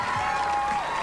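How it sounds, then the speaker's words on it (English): Supporters in a TV game show studio audience on Wheel of Fortune Australia clap and cheer in a brief, even burst of applause, with a steady tone running beneath it. "Shannon, I noticed a bit of a cheer squad in the audience for you this afternoon"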